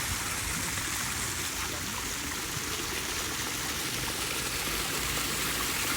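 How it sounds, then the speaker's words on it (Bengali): Water falls steadily from a park fountain beside a lake, a loud, dense, unbroken rushing splash with no voices over it. "আর এখানে ওরা সুন্দর করে একটা পানির সাউন্ড দিয়ে দিছে, আসলে ভালোই লাগে, ঝর্ণার মতো।"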